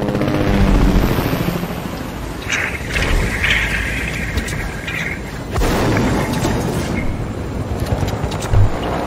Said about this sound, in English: Let's take the helicopter there.